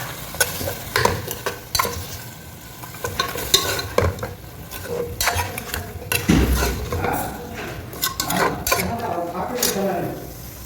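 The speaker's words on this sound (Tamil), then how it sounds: "பீஃபு சாரி நல்லா கொஞ்சம் வதங்கட்டும்." Beef sautés in oil in a pot for Ramzan beef biryani, a sizzle under repeated sharp scrapes and clinks of a metal spoon against the pot, stirred in irregular bursts.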